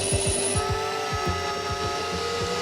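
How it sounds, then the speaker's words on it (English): A power drill bores into stainless steel pipes, whining steadily with a repeated rhythmic grinding pulse, close and fairly loud, with no talk over it. "Officers in Sydney are drilling into some stainless steel pipes sent from China."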